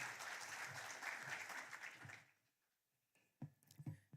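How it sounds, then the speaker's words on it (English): Audience applause at a taxpayer appreciation day and awards ceremony in Swakopmund, Namibia, a dense steady clapping for about two seconds that fades out, followed by a quiet gap and a few brief closer noises. "A round of applause."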